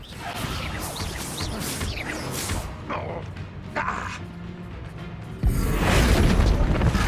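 A blasting spell detonates in a wizard combat game, whooshing magic casts and thuds leading into a sudden loud explosion late on that rumbles heavily to the end.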